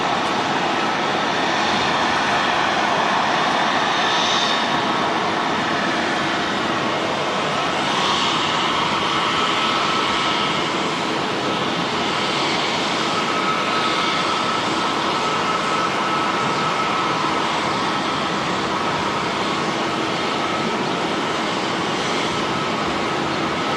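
An aircraft on the Queenstown flight at Auckland Airport gives a steady, loud, broadband roar that holds evenly for the whole stretch, with no talking.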